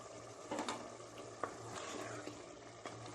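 Minced keema fries on a high flame with green chillies and coriander, with a faint steady sizzle broken by several soft scraping stirs of a spoon in the pan.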